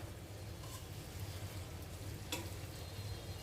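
Fish pieces and drumstick vegetables frying in a pan, a soft continuous sizzle and crackle with a faint stir or scrape partway through, quiet and without talk.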